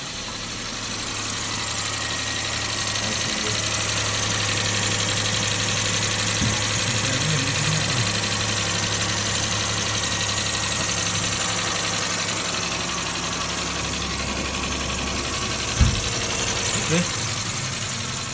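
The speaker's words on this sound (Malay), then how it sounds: "Kereta berjaya dihidupkan." A car engine idles steadily after its battery has been replaced, a constant mid-pitched hum lasting throughout at close range, with people talking faintly over it.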